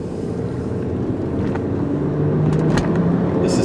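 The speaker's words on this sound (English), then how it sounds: "This is such a smooth, quiet car." A blue 2001 VW Passat wagon cruises smoothly along a road, giving a steady low road and engine rumble with wind noise layered over it and a few faint clicks near the end.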